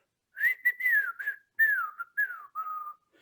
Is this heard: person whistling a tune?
yes